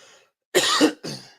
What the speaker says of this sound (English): I keep coughing. I got this chronic cough